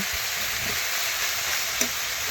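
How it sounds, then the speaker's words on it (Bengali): Drumstick leaves and flowers stir-fried in a pan, a steady close sizzle with occasional soft stirring knocks. "এখন নাড়াচাড়া করে ভালোভাবে 2 থেকে 3 মিনিট এইভাবে ভাজতে হবে"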